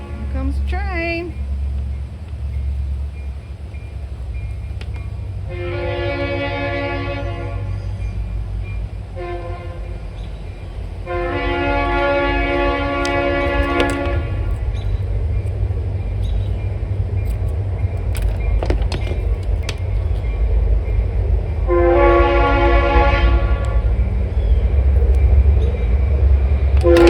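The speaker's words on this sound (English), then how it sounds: "Train." A train passes with three long horn blasts spaced several seconds apart, over a low rail rumble that grows louder and closer toward the end.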